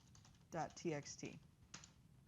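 Soft keystrokes on a computer keyboard as a Linux terminal command is typed, a quick cluster of taps mixed with a voice talking over them.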